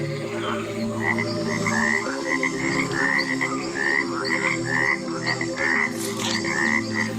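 Cane toads croak in a rapid, repeated series of trilling calls, a loud chorus carrying over steady background noise with no voices.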